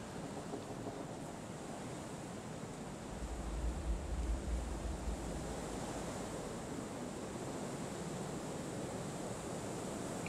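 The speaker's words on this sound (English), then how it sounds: "Windy as hell here too, although I guess that's just because the wind's blowing through all these trees" Wind rushing through forest trees in the game Kholat, a steady broad whoosh with a low rumbling gust swelling in the middle, constant and enveloping with no voices.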